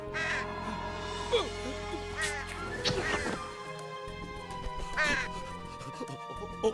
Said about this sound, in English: There's a crow on the loose, and he looks hungry.